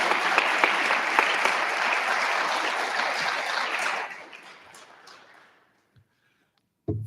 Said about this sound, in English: I'd like a round of applause for our mentor group